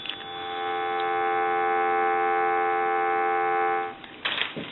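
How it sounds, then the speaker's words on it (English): A steady dial tone from an Automatic Electric three-slot payphone under repair hums for about four seconds, then cuts off, followed by brief clicks and rustling. "We'll go ahead and give you some dial tone."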